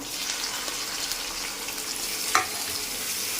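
Tomatoes go into a hot frying pan for kovakkai (ivy gourd) gravy, setting off a loud, steady sizzle that holds throughout, with one brief clatter partway through and no voices.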